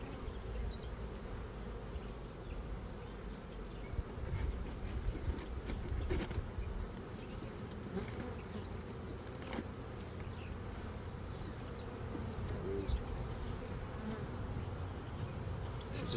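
Honeybees hum steadily around an opened hive during an inspection, a dense continuous buzz of many insects at moderate distance, with a few individual bees passing closer.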